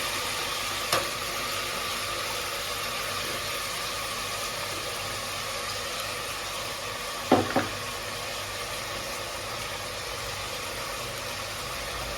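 Onions with ground masala sauté in a pan for Tamil-style country chicken curry, giving a continuous broadband sizzle at low, even level with a couple of faint clicks and no talking.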